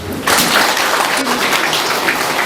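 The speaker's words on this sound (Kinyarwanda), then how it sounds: "Reka nsaba ari hano mwese gukomera amashyi." An audience at a gathering bursts into applause, a broad dense clapping that starts abruptly and holds steady, with some voices mixed in.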